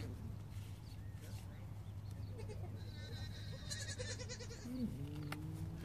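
A goat gives a single short bleat near the end during udder cleaning for milking, over a steady low hum and background noise. Some voices can be heard faintly.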